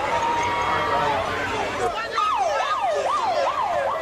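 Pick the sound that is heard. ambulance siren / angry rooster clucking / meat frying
ambulance siren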